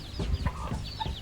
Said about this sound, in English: This is our chicken coop.